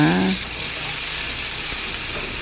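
Pork stir-frying in a pan with garlic, a steady broadband sizzle that fills the clip after a brief voice at the start.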